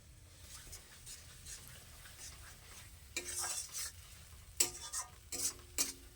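Spices sauté in a small amount of oil as a utensil stirs them in a pan, soft scraping strokes over a faint sizzle, with a few sharper metallic scrapes toward the end, quiet and close.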